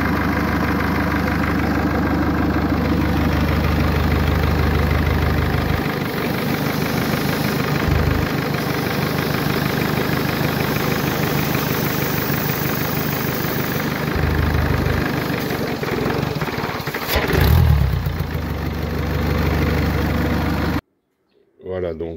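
A Mercedes A-Class engine with a faulty turbo runs steadily and loudly for most of the clip, with a rough, uneven idle and a brief surge before it stalls abruptly near the end.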